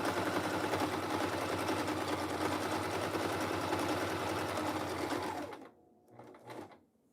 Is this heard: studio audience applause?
no